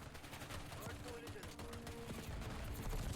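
Rapid pistol gunfire in the shooter game Black Ops 6 during a Hardpoint match on the Hacienda map, a dense run of sharp cracks overlapping other game noise and a faint voice.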